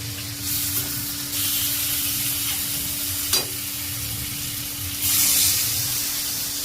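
Water poured onto fried spice masala in a pan for a Bengali fish curry, setting off a steady hiss and sizzle with a sharp crackle partway through and a louder burst of steam near the end, close, no talk.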